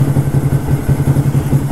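A Honda Grom motorcycle idles close up, a loud steady low putter with an even, rapid pulsing rhythm and no voices.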